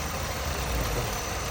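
A 1999 car with a 1.6 engine idling, heard as a steady, dense mechanical rumble that holds evenly throughout at close range.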